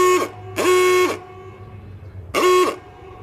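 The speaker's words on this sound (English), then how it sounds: "That was what the hooter sounding was." Race start hooter at the Silverstone circuit blares three times, loud and near: two short blasts close together, then a third after a pause, over a low background hum.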